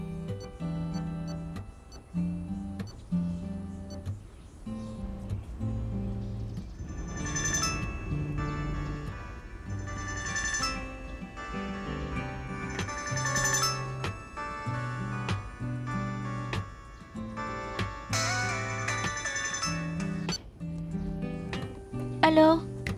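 A phone ringtone plays during an outgoing call, a looping melodic tune with steady ticking beats that repeat for over twenty seconds.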